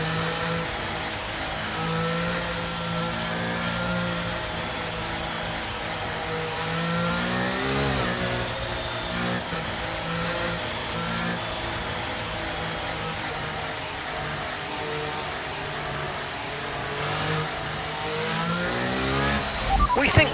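Race cars in the F1 23 video game accelerate as a pack after a safety car period, engines revving and climbing through gears, with tire squeal, loud and continuous throughout, with a voice talking over the engine roar.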